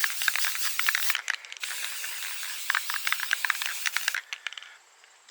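Rust-Oleum etching primer hisses from a rattle can onto bare metal in short bursts, close and steady, with brief pauses and faint rattling between passes.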